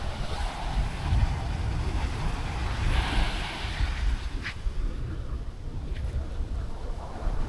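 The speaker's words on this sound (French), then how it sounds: "il y a un petit peu moins de vagues qu'hier" Sea waves wash steadily onto a beach at Aregno in Corsica, a continuous close surf roar with wind buffeting the microphone and no voices.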